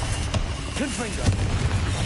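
Confringo blasting spell cast in Hogwarts Legacy, booming bursts and magical whooshes layered over constant combat rumble, with a voice speaking briefly amid the noise.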